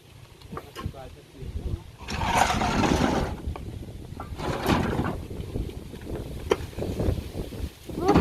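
Wind blows outdoors in two strong gusts that roar across the microphone, easing between them into a lighter breeze with scattered small knocks and rustles.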